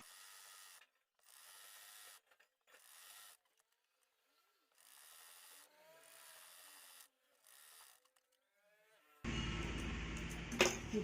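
A sewing machine stitching elastic onto a palazzo runs in short bursts of steady mechanical whirring separated by quiet gaps. Louder noise comes in near the end.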